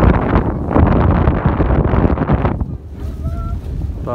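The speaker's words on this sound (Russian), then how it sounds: "Ветер прям все сильный." Strong wind buffeting the microphone on the deck of a ship at sea, loud gusty roar for a few seconds before dropping to quieter wind and water, with faint tonal sounds afterward.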